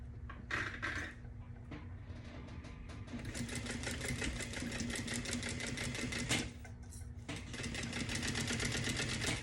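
Sewing machine stitching a zipper onto a convertible tote, a steady close mechanical whirr with rapid needle clatter running in bursts and brief pauses between runs.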